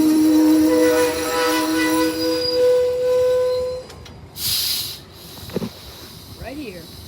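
Train 58 pulling into Hammond station in Louisiana, with a steady rumble and a long high wheel squeal that fades out, followed by a burst of air hiss and some clanks.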